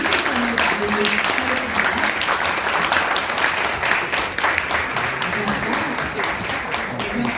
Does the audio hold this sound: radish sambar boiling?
no